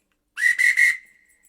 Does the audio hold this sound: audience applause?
no